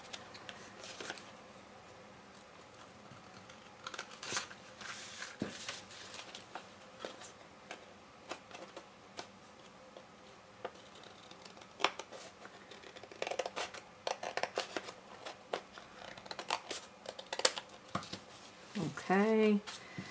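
Scissors snip and trim the edge of a paper Valentine's card in scattered quiet cuts and rustles, close by, with faint handling noises between them.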